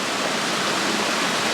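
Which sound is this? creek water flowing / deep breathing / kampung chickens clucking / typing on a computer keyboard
creek water flowing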